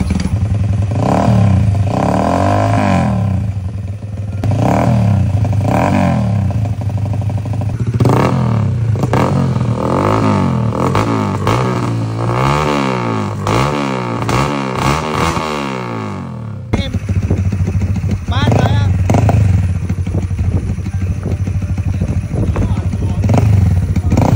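Honda Nice125 drag motorcycle with a big engine, revved repeatedly in sharp rising bursts close by, then settling into a rough idle, with a voice talking over parts of it.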